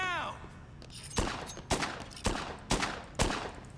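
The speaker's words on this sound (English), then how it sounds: "It's a pistol, it should do more than this!" Pistol shots in Dead Rising 2, five sharp evenly spaced cracks at a steady pace with game noise in between, no talking.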